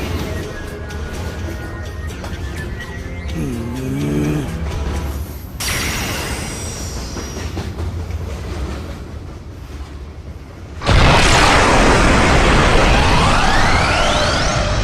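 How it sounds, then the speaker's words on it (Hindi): A roaring energy-blast explosion from a Hindi-dubbed Dragon Ball Super anime episode bursts in suddenly and loudly after a stretch of busy soundtrack, then sustains as a dense roar. "बाय मीरस, अब ब्लू ऑरम के साथ तुम भी ब्लास्ट हो जाओ"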